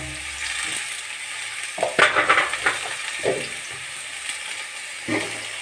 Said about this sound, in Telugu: బీరకాయలు వేసేస్తున్నాం